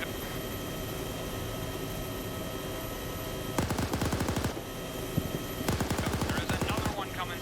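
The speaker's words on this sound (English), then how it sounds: "Shoot it down with the machine gun" Machine gun fire in a video game aimed at a Huey helicopter: two loud rapid bursts of shots over a constant droning hum of engine and rotor noise.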